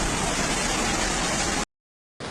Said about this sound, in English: Heavy rains have caused serious disruption in the districts of Araklı, Arsin, and Sürmene in Trabzon.